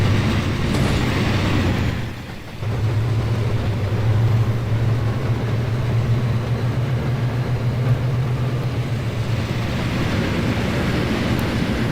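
A steady low engine drone and rumbling rail noise from two freight locomotives in the Trainz video game run throughout, heavy and continuous, with a brief dip early before the throb resumes.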